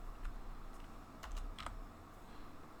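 Quiet typing on a computer keyboard, a few soft clusters of key taps over faint room noise.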